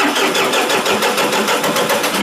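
Diesel engine of a Sonalika 42 DI tractor with a diesel pump problem, cranking and catching slowly: loud, close, steady rapid chugging pulses with no talk.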